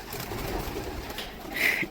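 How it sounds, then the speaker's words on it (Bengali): Caged pigeons coo softly against a steady, hissy background, with one brief, clearer call near the end. "এই খাঁচার মধ্যে দেখো পায়রাগুলো খুব সুন্দর"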